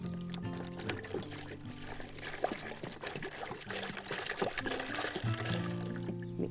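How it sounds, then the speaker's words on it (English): A quart of water pours steadily into a bucket with a continuous gurgling trickle over several seconds, close to the microphone. "I have a quart of water, 2 pints, and that's going in my bucket."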